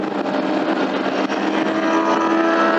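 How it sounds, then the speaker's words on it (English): Motorcycles on a back road during a European tour, a loud continuous engine roar that holds steady and rises slightly in pitch as the bikes race past close by. "Look at those bikes go!"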